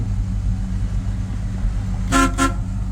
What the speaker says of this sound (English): Horns work though.